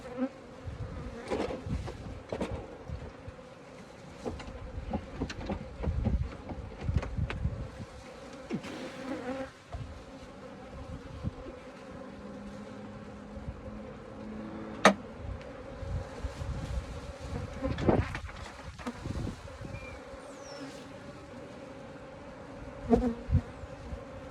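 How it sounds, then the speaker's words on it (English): Honeybees buzzing steadily around an open Flow Hive during an inspection as the crown board comes off; a continuous, close swarm drone lasts throughout, with occasional handling knocks and scrapes. "So I have to take the crown board off, which will expose the bees again, and that's okay."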